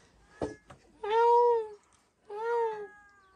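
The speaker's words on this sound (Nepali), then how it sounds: "बिरालो" A cat meows twice at close range, two drawn-out tonal cries a second apart, preceded by a faint short sound, with no talking over them.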